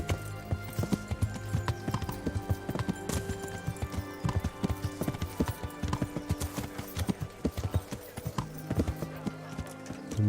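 Horse hooves clip-clop on the ground in the medieval game Kingdom Come: Deliverance, a steady rhythmic stream of close hoof strikes lasting throughout, with a brief neigh-like snort over faint background ambience.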